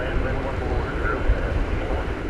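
A steady, broad engine roar from an airplane at DFW Airport at night fills the whole stretch, loud and constant with no clear rise or fall, as if the aircraft is close by on the ground.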